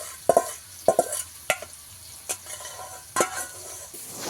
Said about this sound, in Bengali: এবারে ভালো করে একটু কষিয়ে নেব মশলাটাকে।